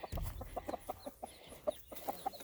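Several roosters cluck in short, quick bursts, fairly faint, with a soft rustling at the start.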